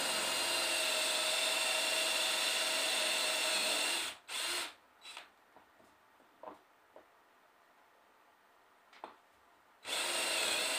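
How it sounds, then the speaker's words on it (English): A power drill bores holes into wood to mount a bear trap, running loud and steady for about four seconds, then stopping, followed by a few faint knocks and handling sounds before the drill whirs again at the end. "We got our holes drilled up there."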